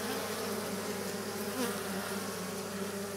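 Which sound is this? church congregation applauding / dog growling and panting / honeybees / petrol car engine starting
honeybees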